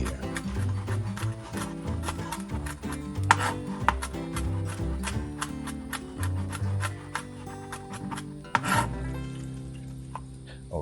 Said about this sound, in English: I'm going to cut up some jalapeños, very fine, very fine.